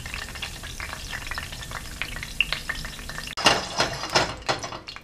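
Leaves frying crisp in a hot pan for a warm tomato salad, a steady close sizzle with stirring scrapes that turns louder and sharper partway through.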